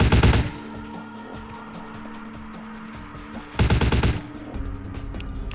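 Gunfire with heavy recoil in Vampire The Masquerade Bloodlines: two short, loud bursts of shots about three seconds apart, separated by a low steady hum, with a fainter rattle of shots trailing after the second burst.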